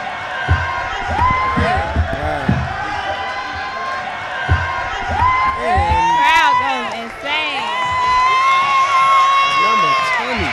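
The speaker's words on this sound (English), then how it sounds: "The crowd get hot." Spectators at a high school basketball game between Collins Academy and Perspective cheer and shout, children's voices and whoops rising in waves, with occasional ball bounces beneath the din.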